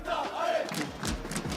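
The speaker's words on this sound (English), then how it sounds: "Taking in the atmosphere, that trophy with the crowd all chanting." A large arena crowd chants and roars in unison at an esports grand final of MWI, a dense, continuous wall of voices filling the space.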